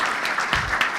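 An audience applauds an IT team at a corporate event, a brief burst of close, dense clapping lasting about a second.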